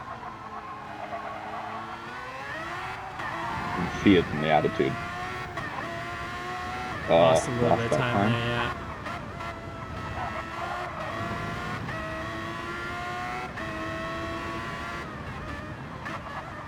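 A race car engine in a racing video game screams continuously at high revs, rising and falling through gear changes with brief tire squeal around the corners, while a commentator talks over it.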